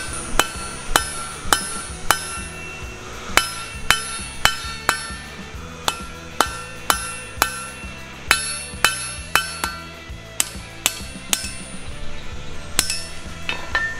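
Hammer blows on metal at a blacksmith's anvil, some twenty ringing strikes in an uneven rhythm of singles and quick pairs, close and clear with no talk.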